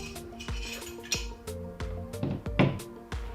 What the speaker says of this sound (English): you can just run the spoon along the bones and you'll find most of the meat's pretty soft and just flakes off beautifully